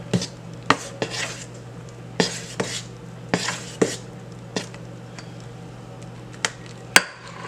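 Irregular clinks and knocks of a spoon or utensil against a bowl while Barbados black cake batter is mixed, sharp close hits spaced unevenly over a steady low kitchen hum.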